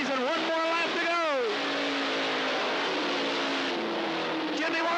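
Dirt track race car engines at a 1991 Cottage Grove Speedway race roar on the last laps, one rising and falling in pitch as it passes, then a steady drone under a commentator talking throughout.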